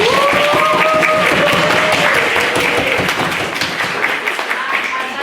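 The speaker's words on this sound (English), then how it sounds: "And we have a second round of applause for a brilliant incident." Audience applause at a formal debate, dense clapping that thins out toward the end, with tonal whistle-like streaks and some voices mixed into the crowd noise.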